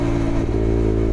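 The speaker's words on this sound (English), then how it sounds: "That exhaust has got quite deep now. It's warmed up the engine." A Chinese motorcycle engine, warmed up, rumbles with a deep exhaust note, a loud steady low growl with a slight dip and rise in revs, heard up close without talk.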